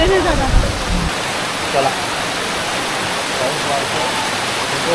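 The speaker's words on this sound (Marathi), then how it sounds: "नेकलेस वॉटरफॉल हा तुम्हाला लांबूनच दिसणार आहे" Necklace Waterfall at Bhandardara, heard from a distance as a steady, broad rush of falling water, with people talking briefly over the start.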